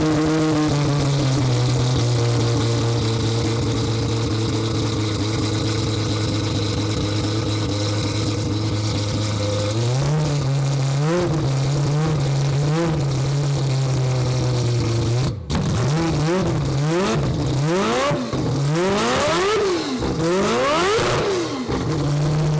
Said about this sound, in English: which is the moment I'm allowed to fire the car up